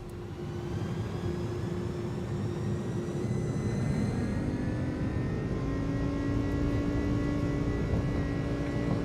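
Twin jet engines of an iniBuilds A300 airliner spool up to takeoff thrust in Microsoft Flight Simulator, a loud, steady roar with rising whining tones that holds throughout without any talk.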